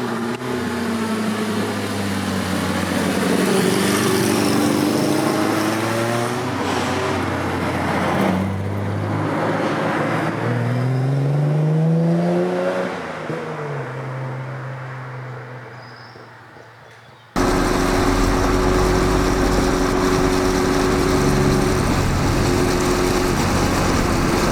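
A motorcycle engine runs loud and close, with revs rising and falling in repeated sweeps. It then drops away to a quieter stretch before a steady idle hum cuts in abruptly. No one speaks.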